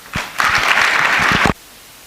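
A brief burst of audience applause at a judicial conference, starting abruptly, holding loud and even for about a second, then cutting off sharply.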